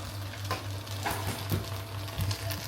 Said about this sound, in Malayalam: അതും കൂടി ഇട്ടിട്ട് ജസ്റ്റ് ഒന്ന് മിക്സ് ചെയ്യാം